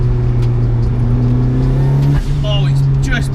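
A small turbocharged Mazda MX5 of nearly 300 bhp accelerates hard from inside the car, its engine note rising steadily and loud, with a brief dip like a gear change, and a person speaking over it.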